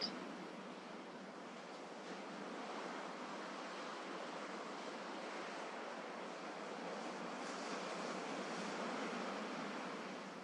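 Steady sea waves wash onto the shore in a continuous broad rush, with no voices or other sounds.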